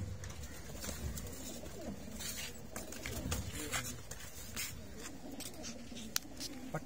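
Racer pigeons coo softly at a rooftop loft with repeated low throaty calls. Faint wing flutters and light background noise sit under them.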